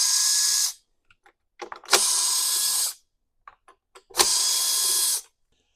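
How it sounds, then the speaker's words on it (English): Power driver or ratchet spinning out the bolts on the recoil starter of a Stihl BG 50 hand-held leaf blower, three loud mechanical whirring bursts about a second each, with small clicks of handling between them. "I'll go ahead and remove the 3 bolts on the recoil."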